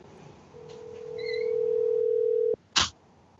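A telephone dial tone hums steadily for about two seconds during a call, then cuts off abruptly and is followed by a brief sharp click or rustle, clear and close with no talk.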